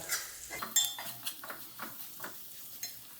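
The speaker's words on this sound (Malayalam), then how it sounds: "നന്നായിട്ടൊന്ന് ഇളക്കി കൊടുക്കാം" Chicken pieces coated in spices and chilli powder are stirred in a pan for a Kerala-style chicken dish, giving a run of spoon clinks and scrapes against the metal at a steady, uneven rhythm, close and alone.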